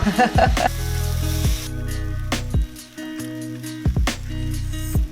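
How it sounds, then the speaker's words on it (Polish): Onion and zucchini sizzle and crackle in oil in a hot pan, a steady close frying hiss with occasional stirring clatter and bursts of louder sizzle. "żeby na niej zeszklić cebulę, cukinię, żeby ją również przesmażyć"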